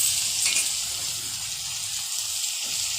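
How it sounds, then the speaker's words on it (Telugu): Soya chunks (milk maker) frying in a pan for a potato curry, producing a steady, close, bright sizzle and hiss throughout, with a brief stirring scrape near the start and no talking. "ఇప్పుడు మేము మిల్క్ మేకర్ వేసుకుందాం"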